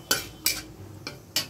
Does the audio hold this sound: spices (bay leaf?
yes